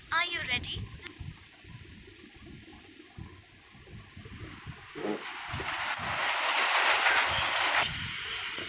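A locomotive hauling a train in Indian Train Simulator, heard as a steady rumbling run that swells louder toward the end, with a short hiss-like burst midway and no talk over it.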